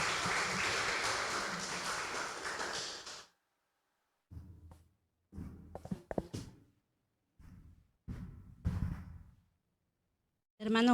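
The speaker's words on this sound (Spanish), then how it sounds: "Así que la recibimos también con aplausos y la animamos." People at a church evangelism training session applaud for about three seconds, and then the clapping stops abruptly. Scattered thumps, shuffles and brief voices follow in the quiet room.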